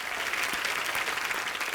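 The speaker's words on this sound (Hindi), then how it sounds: "आप सबकी जोरदार तालियों के बीच मैं इनवाइट करना चाहूंगा" Studio audience at a television comedy talk show breaks into steady, dense applause that fills the whole short stretch at an even, loud level with no talk over it.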